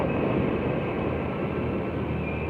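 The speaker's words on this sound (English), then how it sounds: "The train is passing. The parking lot is right by the train." A train rolls past beside a parking lot, a steady, dense rumble with a high whine running through it, loud and continuous without talk.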